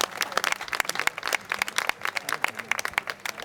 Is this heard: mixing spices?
no